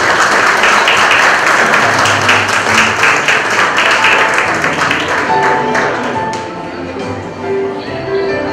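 Dense applause from guests at a quinceañera as Victoria enters carrying the ring, a steady wash of clapping that thins and fades toward the end while soft music plays underneath.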